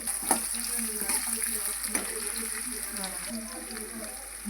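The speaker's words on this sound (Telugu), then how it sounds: "ఆయిల్లో ఉల్లిపాయలు గోల్డ్ కలర్ వచ్చేంత వరకు బాగా అలా వేగనివ్వాలండి అలా కలుపుతూనే ఉండాలి" Onions hiss softly as they fry in oil, with a steady low sizzle and a few faint clicks of stirring. A voice murmurs quietly beneath the sizzle.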